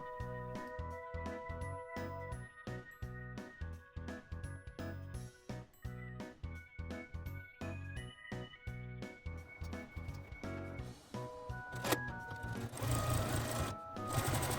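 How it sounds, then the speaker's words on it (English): A domestic sewing machine runs in close, rhythmic bursts while free motion quilting a teardrop field pattern, its rapid needle stitching starting and stopping repeatedly, with a slightly different whirring passage toward the end and no talking. "Now I am sewing the quilting pattern Teardrop Field"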